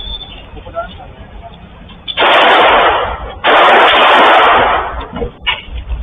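Two long bursts of rapid gunfire shot into the air on a Delhi street outside a club, each roughly a second of loud crackling volleys, separated by a short gap, with faint background noise before and after.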